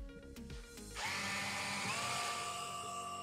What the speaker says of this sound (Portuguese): Então volta aqui para nossa furadeira.